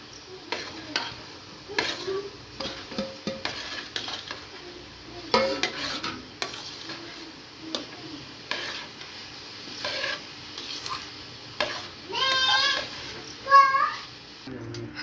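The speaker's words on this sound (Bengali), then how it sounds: "ভালো করে নেড়ে নেব।" Crushed fried lentil balls are stirred in a pan, with repeated scraping and clinking of a metal spoon against the pan and a light sizzle underneath. Scattered bursts of sound stand out, and faint background voices can be heard.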